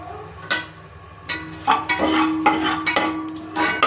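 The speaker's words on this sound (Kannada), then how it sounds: "ಈ ಥರ ಚೆನ್ನಾಗಿ ಫ್ರೈ ಮಾಡ್ಕೊಂಡು ಗೈಸ್" Whole spices for mushroom biryani are stirred in a frying pan: a spoon scrapes and knocks against the metal in repeated, uneven strokes over a low sizzle, close and fairly loud.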